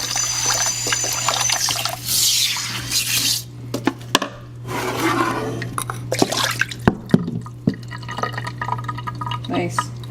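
Water splashes and trickles inside a Mexican clay pot being rinsed, with dripping and sloshing bursts over a low steady hum, with people talking now and then.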